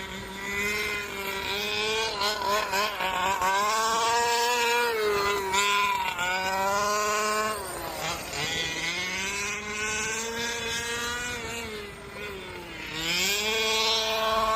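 Large-scale 40 lb gas-powered RC cars practicing on a dirt bullring racetrack: buzzing two-stroke engines rise and fall in pitch, revving loudly through the corners and down the straights, several close together.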